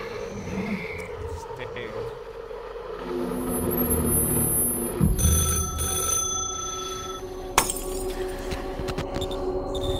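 A telephone rings in the video game Rec Room, with repeated electronic trills and a sharp click, while people talk over the ringing.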